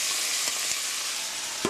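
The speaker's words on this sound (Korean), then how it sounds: "투명하게 볶아질 때까지 볶아주세요" Onion and garlic stir-frying in a pan for mapo tofu, giving a steady, bright sizzle with a few soft clicks of the spatula against the pan.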